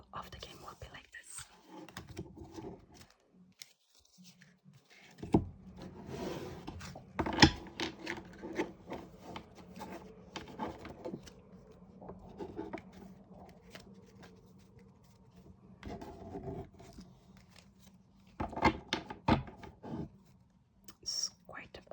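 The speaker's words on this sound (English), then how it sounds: "It's quite a big deck, so I'm just gonna shuffle it quite separately" A large deck of game cards is shuffled by hand in soft, close riffling and rubbing bursts, with quiet gaps between handfuls and faint whispering in places.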